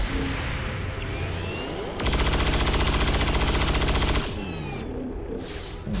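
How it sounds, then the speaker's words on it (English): Return gunfire in XCOM 2, a loud sustained burst of rapid automatic shots lasting about two seconds, set between noisy game sounds with whooshing effects before and after. "That apparently triggers return fire."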